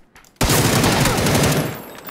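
Sustained burst of rapid video game gunfire, loud and close, opening abruptly after a brief quiet lead-in and rattling continuously for nearly two seconds before easing slightly.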